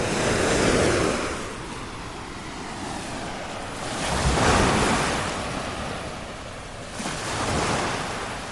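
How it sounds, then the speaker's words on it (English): Lake Erie waves wash steadily onto the shore at Cleveland in slow swells, with wind rushing across the microphone throughout. "So hope you're enjoying the sounds of lovely Lake Erie."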